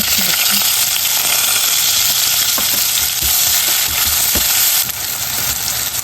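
Garlic frying in hot oil in a home kitchen, a loud, steady close sizzle and hiss throughout, with a few light clinks of a utensil and a slight drop in intensity near the end.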